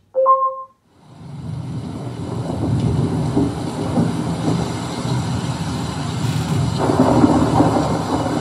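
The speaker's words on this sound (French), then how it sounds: "Ok, je vous mets en contact avec pluie et orage." Recorded rain and thunderstorm ambience from a Google Home app plays after a brief chime, a steady loud wash of rainfall with low rumbling thunder swelling toward the end.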